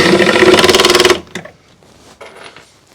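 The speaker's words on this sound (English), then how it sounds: "I'm going to put screws in the bottom, then I'll move it up, clamp it to the top, put screws in the top." A power drill drives screws into the hardboard side of a Husky adjustable-height workbench cabinet, a loud, steady pulsing whine for about a second, followed by a few faint knocks and handling sounds.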